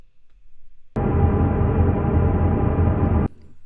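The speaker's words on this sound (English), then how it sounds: "what I just recorded was a rendering of that frozen shimmer from that bass that sounds like this" A dense, sustained frozen shimmer reverb pad rendered from a bass swells in abruptly, holds steady for a couple of seconds with shimmering texture, then cuts off.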